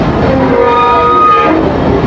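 A Mongla commuter train on the Benapol to Mongla line gives a loud, steady rumble with sustained tonal whine, close and continuous for a short stretch without speech.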